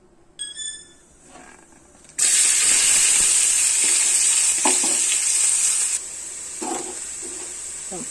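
Onions hit hot sunflower oil in a kadai and set off a loud, steady sizzle lasting several seconds, preceded by clinks of the pan. The frying then drops to a quieter crackle, with stirring knocks close by.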